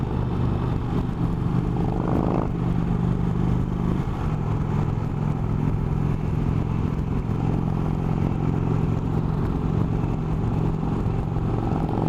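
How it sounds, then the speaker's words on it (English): Stock engine of an Indian Chief Vintage motorcycle idling with a steady, low grumbling rumble, loud and close and continuous throughout, with one brief blip of revs early on and no talking. "this one stock has a pretty nice little sound to it as well. Nice little low grumble."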